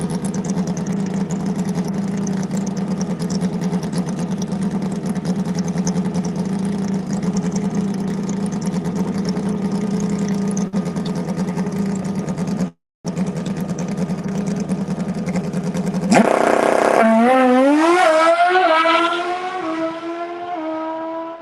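An NHRA Pro Stock Motorcycle, a Stouffer Enterprises machine, makes a drag run at Bradenton Motorsports Park: a loud, steady engine drone runs throughout, then a sharp rise into rapid climbing revs through gear changes as the bike pulls away.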